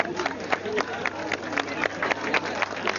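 Audience applause at a 1996 agricultural fair award ceremony in Chissay for Bernard Menot, steady rippling clapping from a crowd with a voice speaking over it.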